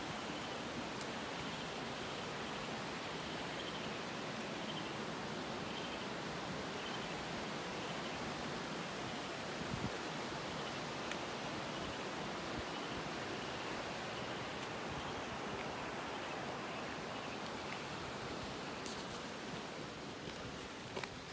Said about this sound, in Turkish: Şu an Sabunçayı'nda şelaleleri geziyorum.